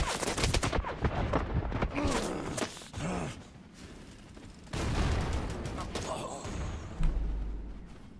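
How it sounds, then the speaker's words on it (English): Gunfire bursts in the shooter game Wild Assault, dense and loud with rapid overlapping shots and bangs throughout, mixed with game noise and some voice sounds. "Taking fire."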